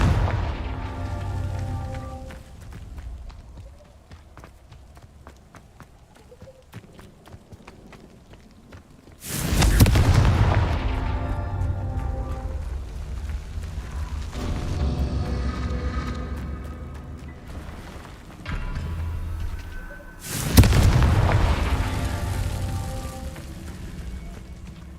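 Confringo explosive spell blasts in Hogwarts Legacy: two loud booming detonations a few seconds apart, each with a sharp onset and rumbling decay, over quieter game ambience with footsteps.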